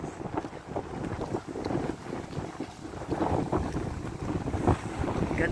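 Ocean waves roll onto the shore at Tawharanui Open Sanctuary, a steady washing surge with swelling pulses, close and fairly loud, heavily mixed with gusting wind buffeting the microphone.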